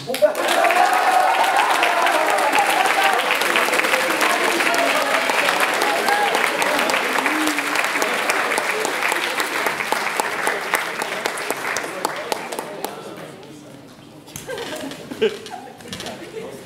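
Loud, dense audience applause at a school choir end-of-year concert award presentation, sustained for about twelve seconds with some laughter mixed in, then thinning into scattered claps and a brief voice.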